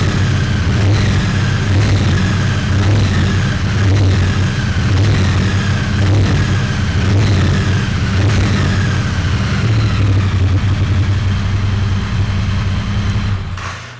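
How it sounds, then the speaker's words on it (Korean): Triumph T120 Bonneville motorcycle on its stock muffler, a quiet, steady mid-pitched engine rumble running close and continuous, with small pulsing revs throughout and no talk. "일단 엔진 사운드는 순정 머플러다 보니까 굉장히 정숙하고요"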